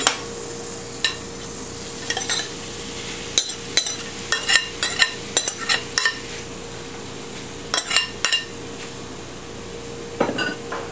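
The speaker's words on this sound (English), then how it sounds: "Now we're going to saute this until the onions start to become translucent" Onion, garlic and tofu sauté in hot vegan butter spread with a low sizzle under repeated clinks and scrapes of a utensil stirring against the pan.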